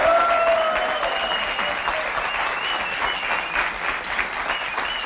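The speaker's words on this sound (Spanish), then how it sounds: "vamos a darle un fuerte aplauso" A studio audience on a Spanish-language talk show breaks into sustained, steady applause that fills the room at an even level, with faint tonal whistles or cheers riding above the dense clapping.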